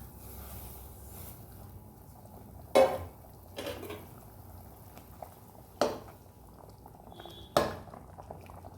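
Water bubbles at a low boil in a pot on lowered heat before semolina goes in, a soft steady churning with a few sharp clinks of utensils against metal.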